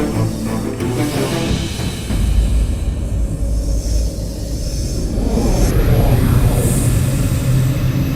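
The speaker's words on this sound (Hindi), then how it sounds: "पुष्पक विमान" Pushpak Vimana, the mythological flying chariot, passes overhead with a steady, loud whooshing rumble that swells midway, under dramatic background music with no talk.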